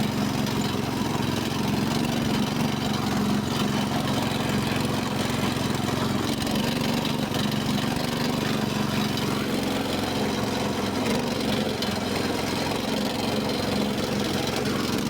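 A mini tractor engine runs steadily at a constant, droning idle, close and loud throughout without any pauses.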